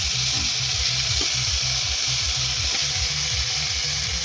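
A tomato dish seasoned with salt and turmeric is stirred in a hot pan, giving a steady, close, continuous sizzle that runs unbroken throughout without any voices.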